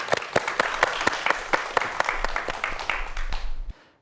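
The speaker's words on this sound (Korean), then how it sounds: "박수 부탁드리겠습니다" Audience applause at a cybersecurity lecture in Korea: brisk, close clapping from a modest crowd, each clap distinct, lasting about three and a half seconds before cutting off abruptly.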